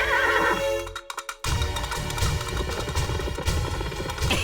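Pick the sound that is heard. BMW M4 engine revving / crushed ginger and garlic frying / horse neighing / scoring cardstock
horse neighing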